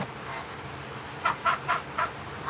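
Geese give a short burst of four honking calls close by, evenly spaced over quiet outdoor background.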